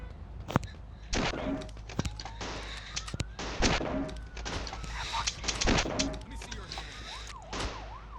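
Gunshots ring out in a gangster crime video game during a police chase, several sharp, loud bangs spread across the stretch over steady game noise and engine-like rumble.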